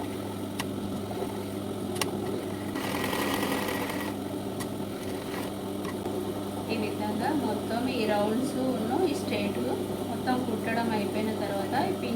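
Sewing machine stitching a boat neck blouse with a princess-cut back, running steadily throughout under continuous nearby talk, with small clicks and shifts in the motor hum.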